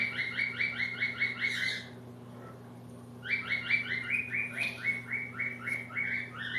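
Birds chirp outdoors in rapid repeated bursts, two bright runs of notes separated by a short pause, heard clearly over a steady low electrical hum.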